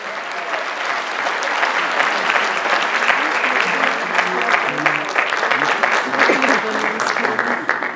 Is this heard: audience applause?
yes